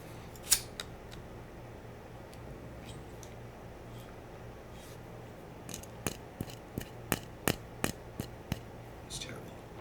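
Sharp clicks from a lighter being struck to light incense, one early snap and then a rapid irregular run of about a dozen crisp clicks near the end, over a quiet room hum.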